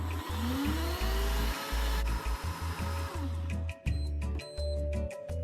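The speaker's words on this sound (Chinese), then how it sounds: "将紫薯倒入破壁机内，加入300毫升清水，搅拌成糊状" A high-speed blender purées purple sweet potato with water into a paste: a loud, close motor whine that pulses and stutters, changes pitch as it runs, then breaks into choppier bursts toward the end.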